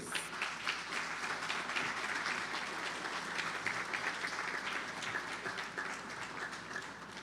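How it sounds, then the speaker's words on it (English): A rousing round of applause for teachers at the Bishop's High School Tobago 100th anniversary Men in Leadership forum: dense, sustained crowd clapping, fairly distant and even throughout. "Let us acknowledge them with a rousing round of applause."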